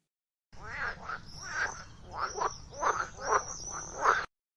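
A frog croaks in a series of about six rhythmic, throaty calls, fairly close and clear against a quiet background.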